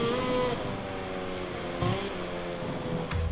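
Motorcycle engine revving steadily in a racing video game, a continuous mid-level drone with shifting pitch and brief louder surges, with no talking.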